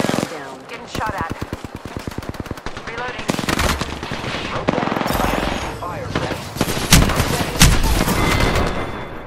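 Rapid automatic gunfire in the video game Apex Legends, dense bursts of loud close shots with heavier blasts and impacts mixed in, nearly continuous, with game voice lines over the shooting.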